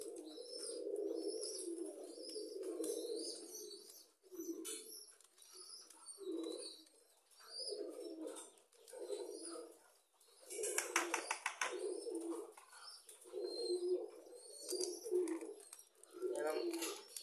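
Pigeons kept in a loft during winter coo steadily, a series of close, repeated low rolling coos in regular bursts, with faint chirps and brief wing flutters between them.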